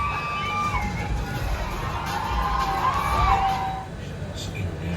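A cinema audience watching a Rajinikanth film whoops and cheers at his mass look, a loud crowd roar with high shouts and whistles that swells mid-way, then eases off near the end.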